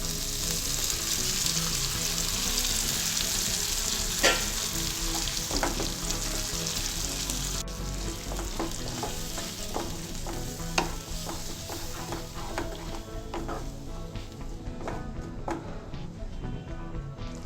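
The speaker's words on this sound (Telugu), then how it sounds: "టమాటో పేస్ట్లో కారం, ఉప్పు వేసి పచ్చివాసన పోయే వరకు ఫ్రై చేసుకోవాలి" Tomato paste with chili powder and salt sizzles loudly in a pan, a dense continuous frying hiss broken by occasional scrapes and taps of a stirring spoon.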